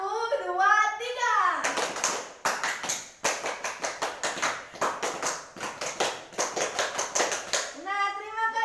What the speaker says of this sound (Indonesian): 1, 2, 3, tepuk pramuka